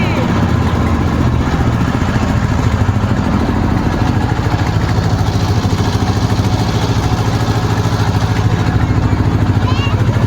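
A steady low engine drone chugs continuously throughout, loud and close, a trawler boat motor running with a mechanical clatter on the Shitalakshya River.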